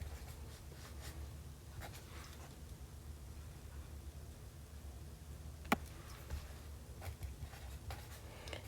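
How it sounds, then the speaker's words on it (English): Faint, intermittent pen or stylus scratching while intermediate math steps are written out, soft strokes over a low steady hum with one brief sharp click, and no voices. "I'm going to write some intermediate steps here"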